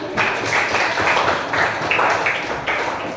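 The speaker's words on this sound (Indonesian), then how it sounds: "Tepuk tangan untuk kita semuanya" Students in a classroom clap together, a short burst of brisk, somewhat patterned hand claps at moderate loudness that carries on for a few seconds without talk.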